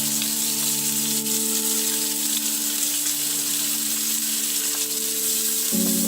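Chopped onion fries in butter with a loud, even sizzle that holds steady from start to finish, alongside a faint hum and no speech.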